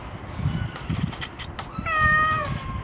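A cat at a shelter in Kayseri gives a clear, drawn-out meow near the end, close to the microphone, after soft rustling and faint background noise.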